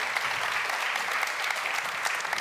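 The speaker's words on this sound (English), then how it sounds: "Please give them a round of applause." An audience at a World Food Day opening plenary applauds steadily, a dense even clapping from a large crowd heard up close and alone, with no speech over it.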